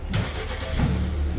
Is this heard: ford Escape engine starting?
yes